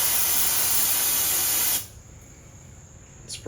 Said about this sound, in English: So I'm just going to take a shop towel, fold it over, spray